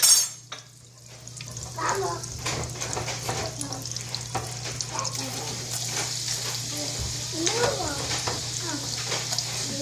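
Garlic sizzles in hot oil and butter in a cast iron pan for Spanish garlic shrimp, a steady crackling hiss with scattered pops and occasional scraping stirs throughout; a faint voice may be present briefly.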